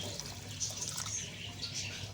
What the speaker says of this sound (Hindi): और ये हम थोड़ा पानी और डालेंगे।